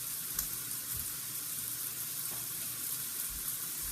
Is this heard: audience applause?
no